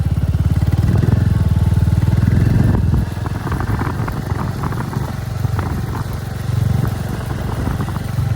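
A motorcycle engine runs steadily and loudly while riding and push-towing a Kawasaki Z900 that has run out of fuel, with a strong low drone that eases slightly partway through and stays close throughout.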